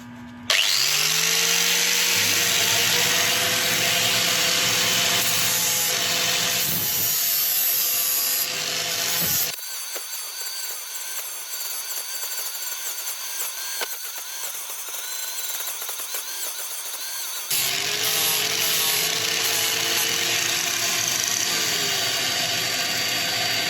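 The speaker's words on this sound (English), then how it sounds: "I've got my spindle lock on to hold it still, so I can use 2 hands on the grinding wheel" A grinding wheel shapes spinning walnut on a wood lathe held by a spindle lock, a loud continuous abrasive roar over the steady hum of dust extraction, cutting out for a stretch midway before resuming.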